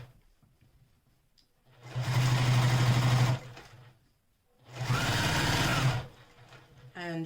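A sewing machine runs in two steady bursts of about a second and a half each, stitching a seam allowance toward vinyl on a small Tribiani bag, with a quiet pause between bursts.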